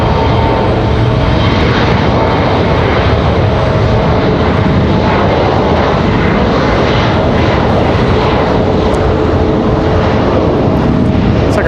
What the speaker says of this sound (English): Our A321 is finally ready to go for American Airlines.